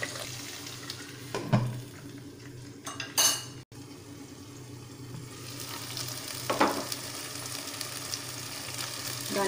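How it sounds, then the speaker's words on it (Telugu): Ivy gourd pieces fry with browned onions in a pan for a coconut milk masala curry, giving a steady close sizzle throughout, broken by occasional clinks and scrapes of stirring. "ఉల్లిపాయలు వేగిన తర్వాత ఈ విధంగా కట్ చేసి పెట్టుకున్న దొండకాయ ముక్కలను వేసుకొని ఒక 5 నిమిషాలు బాగా మగ్గనివ్వాలి"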